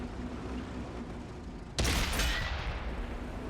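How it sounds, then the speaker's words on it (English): A tank cannon in World of Tanks, set on the city map Himmelsdorf, fires one sudden loud shot after a quiet stretch, a sharp crack followed by a booming decay. "I'm able to line up a cheeky shot through them"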